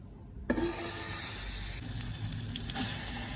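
Butter with a spoonful of cinnamon powder hits a hot pan at about half a second and breaks into a steady, fairly loud sizzle that holds for the rest of the moment, with a slight surge near the end.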